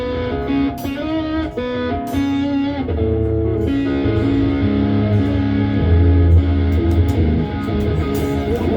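A distorted Ibanez electric guitar plays a sequence of notes and chords, gritty and sustained, loud and close with no talking.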